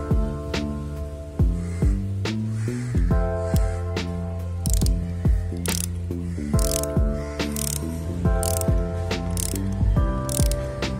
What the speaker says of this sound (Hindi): पहले हाथ से टाइट कीजिए और फिर रैचेट से इसको टाइट कीजिए